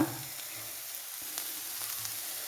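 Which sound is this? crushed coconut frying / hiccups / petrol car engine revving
crushed coconut frying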